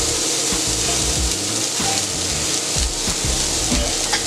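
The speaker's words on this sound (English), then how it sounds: "First thing I'm going to throw on the grill, and I'm going to put them up here, is my onion." Onion sizzling on a hibachi-style steel griddle for house fried rice, a steady loud frying hiss throughout with scattered crackles and occasional scraping taps of a spatula nearby.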